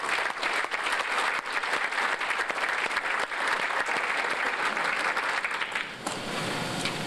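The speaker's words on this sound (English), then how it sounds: "So again, another round of applause for our baseball Dream Team" A banquet audience at a 1997 youth sports awards dinner claps for a baseball team in sustained, dense applause that stays full and even for several seconds before tapering slightly at the end, from a large crowd in a hall.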